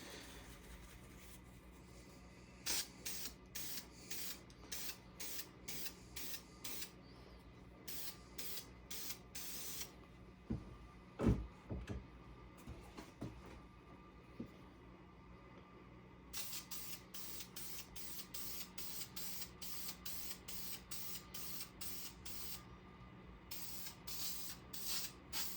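Lacquer sprayed onto a vibrating wooden pot in repeated short hissing bursts of even rhythm, close and steady, with a few sharper mechanical clicks near the middle and a low hum underneath.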